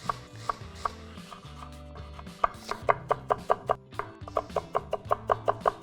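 An onion being chopped with a knife on a board: a steady run of crisp, close knocks that speeds into a fast even rhythm, heard with no talking.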